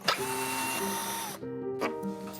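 A power screwdriver whirs and drones in steady bursts while unscrewing parts of a stripped Artifort Mushroom armchair by Paulin, loud and close, with the pitch shifting between runs.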